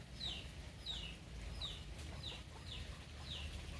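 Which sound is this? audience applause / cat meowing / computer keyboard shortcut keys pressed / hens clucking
hens clucking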